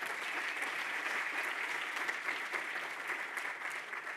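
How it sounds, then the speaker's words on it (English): Steady audience applause fills a university provost's convocation address, a dense even patter of many hands clapping at moderate loudness with no voices over it. "So how about another round of applause for Jody?"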